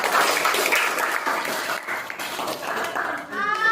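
Classroom audience clapping after a student group's poster presentation, a dense patter of hands from start to finish, mixed with children's voices and brief chatter near the end.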